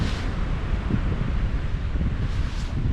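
Beach wind blowing hard across the microphone, a steady, full rumbling roar with no clear breaks for about three seconds.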